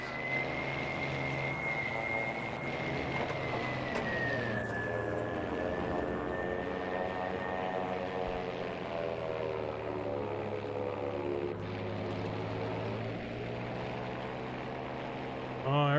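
Battlefield V aircraft drone steadily overhead through a busy in-game battle, with a sustained engine hum and tonal whine that shift pitch as the planes pass, mixed with game music and effects.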